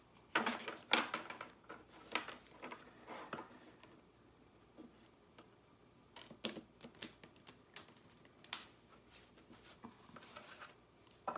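Cards riffle and snap in quick bursts of crisp clicks, pausing between shuffles, close by and fairly quiet.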